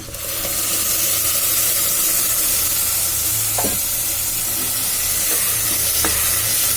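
Ground ginger and tomato paste sizzle and sputter steadily in a hot pan while being stirred, a loud continuous frying hiss with a few scraping strokes, no talk.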